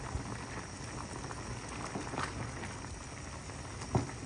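Water bubbles and churns at a rolling boil in a cooking pot for sopas, a steady dense patter of popping bubbles close by, with no voices.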